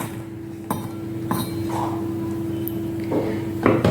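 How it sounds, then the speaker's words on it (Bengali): Green chillies, cut ginger pieces and garlic dropped into a blender jar, making a few sharp clinks and knocks against the jar at irregular moments over a steady background hum, close by, with no talking. "আমি সব এই ব্লেন্ডারের মধ্যে দিয়ে দিচ্ছি।"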